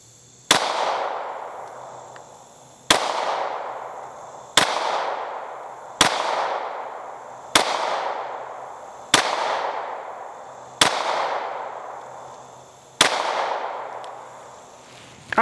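Eight sharp Springfield Echelon pistol shots fired at 7 yards, spaced at an even, deliberate rhythm, each a loud crack with a ringing decay before the next.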